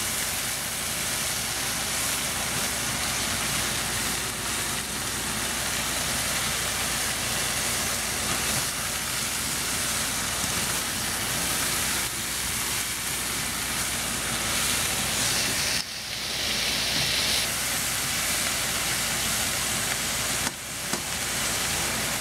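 Pork sausages cook in a hot pan with a steady, loud hissing sizzle that runs unbroken, with a couple of brief dips, close up.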